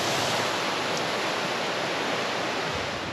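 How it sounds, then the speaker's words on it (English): A waterfall in North Cascades National Park pours in a steady, loud, unbroken rush of broadband noise, close and constant with no voices. "Hold on, waterfall."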